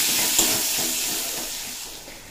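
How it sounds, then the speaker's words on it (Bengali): Finely chopped onion fries in hot oil with a steady, close hiss and sizzle that fades slightly over a couple of seconds, with no voice. "পেঁয়াজটা বেশ নরম হয়ে যাওয়া পর্যন্ত ভেজে নেব।"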